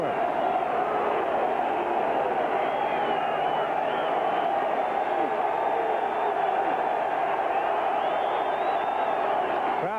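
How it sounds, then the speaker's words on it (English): Football stadium crowd at a 1985 UCLA at Tennessee college game, a steady loud roar of cheering and shouting that holds throughout without letting up. "Crowd getting into it."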